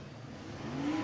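Late model race cars at Cottage Grove Speedway, engines droning and building into a rising revving whine at a distance, brief and moderately quiet.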